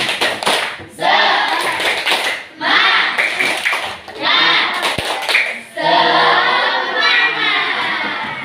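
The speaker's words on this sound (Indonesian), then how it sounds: "Mbak, tepuk semangat." An elementary school class performs a rhythmic spirit clap, bursts of children's voices chanting in unison punctuated by sharp group claps, repeated in short phrases with brief pauses between.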